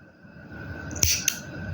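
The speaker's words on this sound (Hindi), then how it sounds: "तो अब हम धागे को काट लेंगे। धागे को थोड़ा सा काटें," Scissors snip through knitting yarn in a quiet room, two quick sharp cuts close together.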